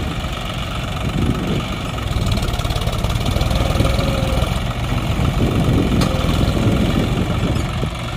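A tractor engine, one of a Mahindra 585 DI XP Plus or John Deere 5050, labours steadily under load while pulling through rough, boggy ground, a loud continuous rumble with knocking vibration and no talk over it.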